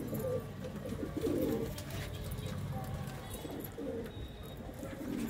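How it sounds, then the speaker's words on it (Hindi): Pigeons cooing in a loft at a pigeon sale in Ludhiana, low soft coos repeating in bursts over steady background murmur and faint talk, close by. "जेडे मोतियां वाले कबूतर ने"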